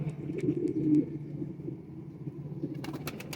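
Ali wale and zakh pigeons coo in low, repeated throaty calls close by, with a few sharp clicks and higher chirps toward the end.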